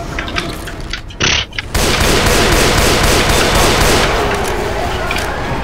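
Rapid bursts of gunfire and booms from Left 4 Dead 2 as players shoot zombies, loud and continuous after a brief opening scuffle.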